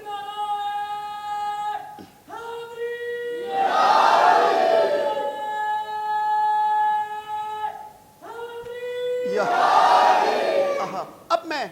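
A crowd at a religious gathering roars a slogan response twice in call-and-response fashion, each shout swelling into a loud massed cry; between the responses a man's sustained, tonal voice leads the chant.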